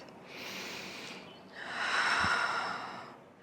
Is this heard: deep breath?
yes